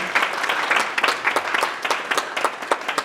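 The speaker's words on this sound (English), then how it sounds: "I think we should also give them a little round of applause" Ceremony audience at a student leadership academy torch-passing event gives a round of applause, fairly close, with quick uneven claps that grow more distinct and sparse toward the end.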